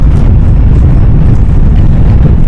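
A loud, steady low rumble with a dense, roaring texture that doesn't change throughout, from inside the Whoosh high-speed train to Bandung running at speed.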